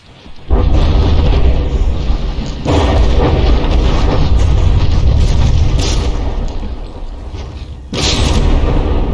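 Battleship guns fire and shells hit during a naval combat video game, rendered as loud, heavy booming rumbles that roll on without a break, with fresh blasts swelling in at the start, near the middle and toward the end.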